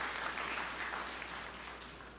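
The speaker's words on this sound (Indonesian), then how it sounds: "Berikan tepuk tangan yang meriah buat Tuhan." Church congregation breaking into lively applause, a dense, sustained wash of many hands clapping at moderate distance, fading slightly toward the end.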